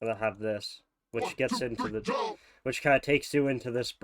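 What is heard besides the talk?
None of the usual background noises is heard.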